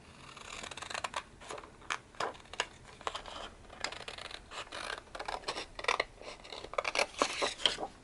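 Scissors snip through paper while corner pockets for a junk journal or scrapbook are trimmed, a series of close, crisp cuts in an uneven rhythm, heard alone.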